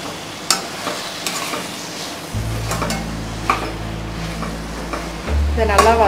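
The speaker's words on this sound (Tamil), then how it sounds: "இதை நல்லா வதக்கிக்கோங்க." Soya chunks (meal maker) sautéed in a pan for green spicy vegetable biryani, with a low sizzle, scraping stirs and a few clinks of a spoon against the pot.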